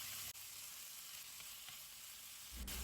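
Beef marinade hits a hot pan with oil, garlic and onion, a faint steady sizzling hiss with a brief utensil knock near the start and near the end.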